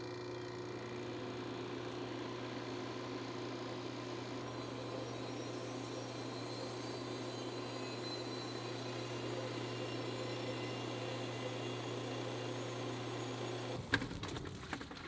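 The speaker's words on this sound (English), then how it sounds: "I followed the instructions that came with the recovery unit to recover the refrigerant from the system" A refrigerant recovery unit runs on a mini split air conditioner with a steady, fairly faint mechanical drone and hum. A brief clattering knock comes near the end.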